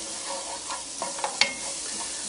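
Chopped brown onion and two crushed garlic cloves fry in oil in a pan, a steady close sizzle broken by a few sharp clicks of stirring.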